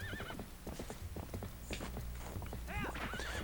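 Hooves clatter in quick galloping rhythm as a horse runs in The Legend of Zelda: Twilight Princess, with a wavering whinny at the start and another loud neigh near the end.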